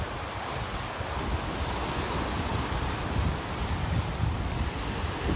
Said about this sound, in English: You can see the waves out here breaking on the sandbar that's just offshore.